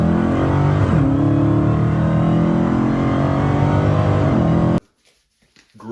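A 2008 Cadillac Escalade with a 6.2 liter L92 V8 runs loud and close, a steady idling drone with a brief rev swell, before cutting off abruptly into near silence at the end.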